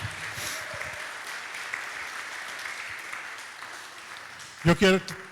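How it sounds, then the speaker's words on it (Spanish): Applause from a church congregation during a Spanish-language sermon, a soft, distant patter of clapping that runs for several seconds and then fades, followed by a brief louder burst near the end. "Dale un buen aplauso al Señor."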